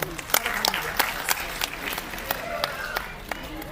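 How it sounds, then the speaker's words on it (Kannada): An audience at a Kannada festival event applauds the sponsors steadily, a mass of clapping hands with a few sharper claps standing out, moderately loud and continuous. "ಎಲ್ಲ ಪ್ರಾಯೋಜಕರಿಗೂ ಒಂದು ಜೋರಾದ ಚಪ್ಪಾಳೆ ಬರಲಿ"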